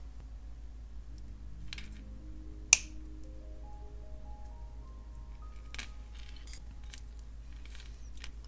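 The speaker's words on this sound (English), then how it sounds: "So now I'm going to cut the next link over." Cutters snip a jewelry chain link for beaded earrings with a single sharp, close click against a quiet background, followed by faint handling ticks and soft tapping.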